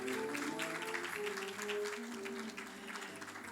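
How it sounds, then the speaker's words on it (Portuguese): Audience applause greeting a federal deputy arriving at a speaking event, a faint, steady patter of many hands clapping from a distance, with a tonal hum running underneath. "Peço aquela calorosa salva de palmas para a gente receber com toda alegria Cláudio Cajado."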